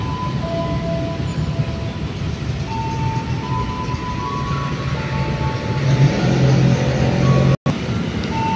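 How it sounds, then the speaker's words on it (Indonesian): An electric commuter train rumbles into a station with a steady low roar and a rising hum, growing louder toward the end before a brief cutoff. "ini teman-teman KRL masuk Kampung Banden ya"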